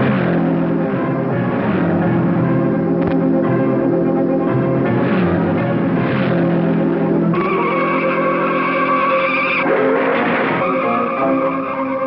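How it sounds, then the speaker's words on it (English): Racing cars roar out at Indianapolis at speed, engine notes rising and shifting with tire squeal and skidding, loud and continuous with no talk. "The fastest racing cars in the world slip from the garages at Indianapolis."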